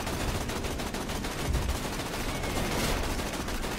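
Dense, continuous gunfire from the video game Borderlands 2 during a fight against killer robots, a loud, unbroken wash of rapid shots filling the whole stretch with no letup.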